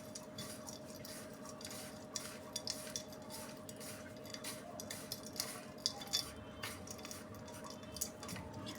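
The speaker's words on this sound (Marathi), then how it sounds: "थोडं तेल पण ॲड करूयात त्यात आणि हा मसाला व्यवस्थित मिक्स करून घेऊया।" A spoon scrapes and clinks in a bowl as masala is stirred with oil for stuffed okra (bharleli bhendi), faint irregular metallic taps and scrapes over a low steady hum.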